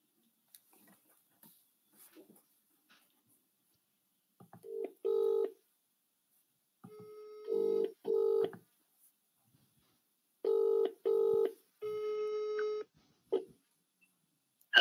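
Telephone keypad dialing tones sound while cold calling, a series of short, clean beeps in quick pairs and clusters, followed by a longer steady tone, close and alone with no talk.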